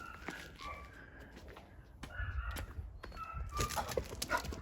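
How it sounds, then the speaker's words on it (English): Dogs bark and yelp in short bursts nearby, several sharp barks scattered over a few seconds amid outdoor rustling. "There's 2 stray dogs."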